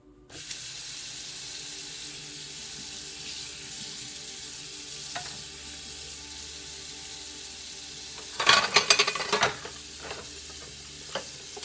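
A tap runs steadily at a kitchen sink as an old man washes dishes by a window, with a brief louder burst of splashing and clatter near the end.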